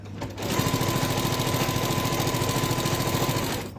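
A domestic sewing machine stitches binding at a steady fast pace, its rapid mechanical chatter close and continuous for a few seconds before stopping.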